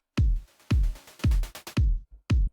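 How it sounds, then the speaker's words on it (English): Punchy, booming kick drum hits, five heavy thumps in an uneven, syncopated rhythm with short gaps and faint ticks between them. "So with the kick drum, this is how it sounds,"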